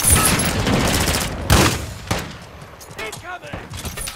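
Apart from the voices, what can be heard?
gunfire in Call of Duty video game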